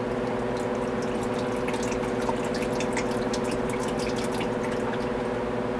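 Oil draining out of a 1999 EZGO TXT gas golf cart engine, a continuous close trickle and dripping under a steady low engine-area hum, with no speech.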